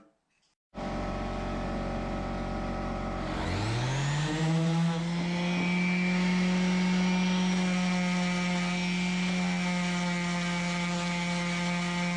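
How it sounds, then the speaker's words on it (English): A palm sander with 120-grit paper works lightly over an engraved cocktail smoker top: the motor starts, climbs in pitch over a couple of seconds, then holds a loud, steady whine up close. "I just hit it real quick with 120 grit on the palm sander, just real light"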